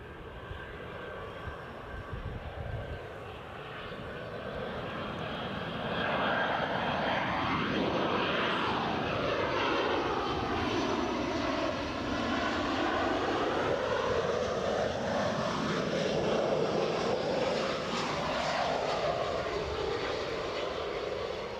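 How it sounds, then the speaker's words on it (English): Aircraft engines of a plane moving near an Edinburgh airfield, a loud sustained roar with sweeping, shifting tones that build and stay strong as it passes, with no talk over it. "You can pick up the sound of those engines and you know there's something to see."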